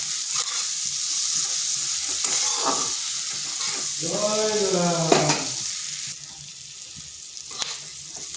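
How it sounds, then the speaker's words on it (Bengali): Sliced onion tossed with turmeric fries in a pan with a steady, close sizzle and intermittent stirring scrapes, and a brief tonal clatter partway through. "পেঁয়াজটাকে হালকা ভেজে নিয়েছি"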